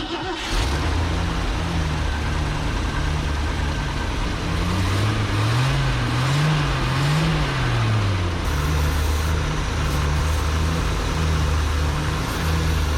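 A 1990 Ford F600 truck engine catches at once and keeps running loud and close, with a steady low idle that briefly revs up and down before settling back.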